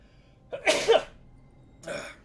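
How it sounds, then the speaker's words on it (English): A sneeze with a sharp wheezy intake followed by a loud burst, then a second softer sneeze-like burst a moment later. "about to sneeze"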